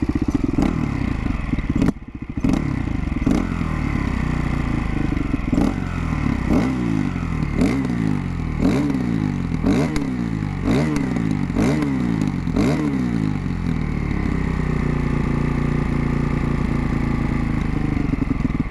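A Husaberg 450 FE single-cylinder motorcycle engine runs close by for the whole stretch, its low thumping note wavering and surging unevenly around idle, with a short dropout early on and a repeating pulse that rises and falls.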